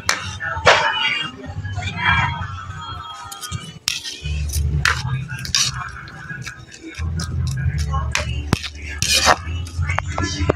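Metal utensils clink and scrape against a pot of coconut milk and shrimp in an irregular rhythm, with a low bubbling simmer underneath and a voice talking over it.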